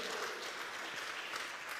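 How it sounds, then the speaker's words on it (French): Applause from a church congregation, a brief, even patter of many hands clapping, soft and somewhat distant, with no voices over it. "Est-ce qu'on peut applaudir tous ceux qui font du transport dans notre église ici"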